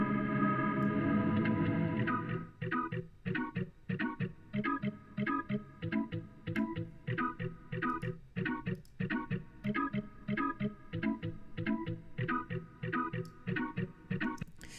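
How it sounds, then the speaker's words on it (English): Music mix processed through a Lexicon Large Church reverb, with a sustained chord washing out for two seconds before rhythmic plucked or picked notes repeat steadily with a spacious reverberant tail. "I'm going to start by looking for something that's specifically church-oriented, like the Lex Large Church."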